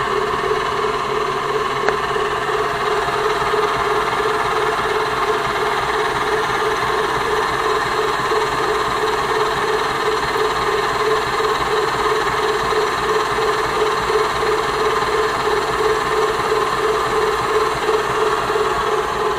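A food processor runs steadily while mayonnaise is being made, its motor giving a continuous, even whir with a strong hum. The sound holds unchanged throughout at moderate loudness, with no talk.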